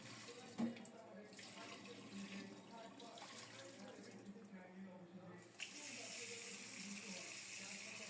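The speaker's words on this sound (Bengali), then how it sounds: "আমি এখন পরিষ্কার করে ধুয়ে ছোট ছোট টুকরো করে নেব।" Tap water runs steadily into a sink as chicken pieces are washed for biryani, a close, continuous splashing stream that swells louder partway through, with faint voices underneath.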